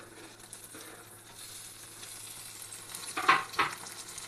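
Tomatoes fry in a pan with mutton pieces: a soft, steady sizzle builds gradually, and two louder stirring scrapes come near the end.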